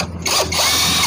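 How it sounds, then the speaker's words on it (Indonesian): An impact wrench buzzes in a continuous, close mechanical whir while removing a front shock bolt on a motorcycle, with short breaks in the sound. "kita menggunakan impact saja biar tidak kelamaan"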